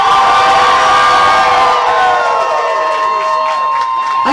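Guests at a wedding reception at a private residence cheer, whoop and shout together in a loud, sustained burst that slowly fades, with a few higher children's shouts mixed in.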